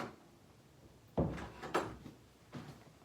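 An indoor door is pushed closed, giving a soft thud and latch click followed by a couple of quieter knocks, all faint against a hushed room.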